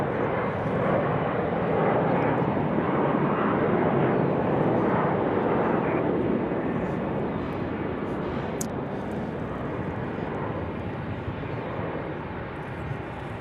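A fixed-wing airliner takes off at Raleigh-Durham International Airport, its engines roaring loudly and steadily from a distance before slowly fading as it climbs away.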